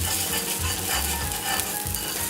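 Watermelon pieces frying in hot oil, a steady close sizzle and crackle with irregular bubbling pops throughout, no voices.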